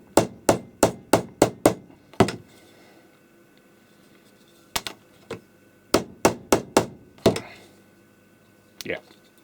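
Sharp hammer blows strike an R-537s airband receiver: a quick run of about six evenly spaced knocks, a pause, then further scattered clusters of close, loud taps.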